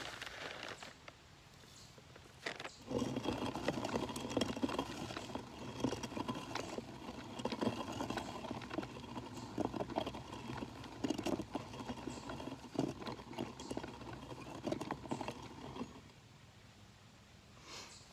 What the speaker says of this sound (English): what we are getting is some grinding of the spelt